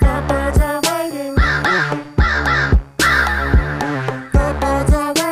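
American crows caw loudly and close by in repeated harsh calls, several overlapping caws in quick bursts with short pauses between.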